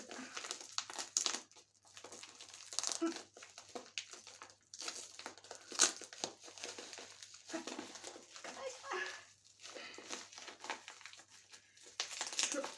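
Crinkling and tearing of packing tape on a parcel, in irregular bursts of rustling with pauses between, fairly close and quiet.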